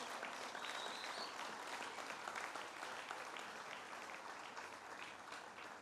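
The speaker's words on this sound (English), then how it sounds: "So let's give the county executive another round of applause." Crowd applause at the opening of a state fair, steady dense clapping heard faintly from a distance, slowly fading over several seconds.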